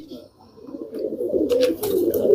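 Pigeons of many breeds kept by a long-time fancier coo in low, throaty bursts that swell louder toward the end, close by, with some brief sharper noises mixed in.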